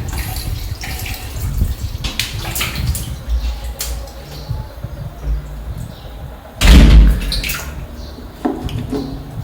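Water runs onto a stiff body scrub sponge to dampen it: a close, continuous trickle and splash, with a sudden louder gush and a thump near the end.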